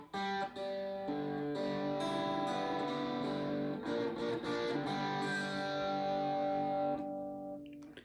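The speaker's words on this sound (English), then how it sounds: "majority of players will just be using distortion" Electric guitar with heavy distortion playing sustained chords and notes, loud and continuous, with a brief pause near the start and fading at the end.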